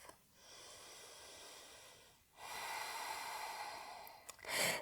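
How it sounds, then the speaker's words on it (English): A slow yoga breath drawn in through the nose and released in a long audible exhale, two broad airy swells with a brief sharper sniff near the end, close and alone. "Take just 1 breath."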